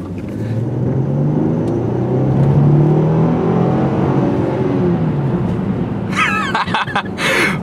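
A 2017 Mercedes-Benz CLS in sport mode revs at full throttle, a loud, sustained engine roar that swells through the middle and holds steady, with a few brief clicks and interior noises near the end.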